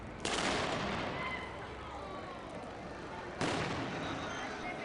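A maroon firework signal fired before a tower demolition: two sharp loud outdoor bangs about three seconds apart, each followed by a long rolling echo that fades slowly.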